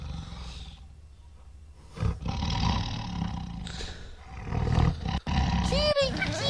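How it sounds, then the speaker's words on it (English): A tiger roars in the Gabriel Knight 2 video game, a loud drawn-out roar rising over background game sound, with a few shorter bursts and trailing chirps near the end. "now you can see that there's a tiger in there"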